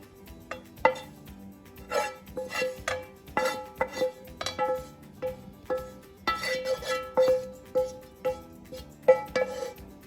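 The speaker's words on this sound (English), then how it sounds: "now we are going to put all of our cauliflower in with our egg and Parmesan cheese" Cauliflower is tipped into a bowl of egg and Parmesan cheese, with repeated clinks and scrapes of a utensil on the bowl at an uneven rhythm, close and fairly quiet.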